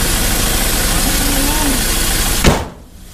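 A tractor engine idles while warming up, a loud steady rumble close by that runs evenly for over two seconds before a sharp knock and abrupt drop to quiet.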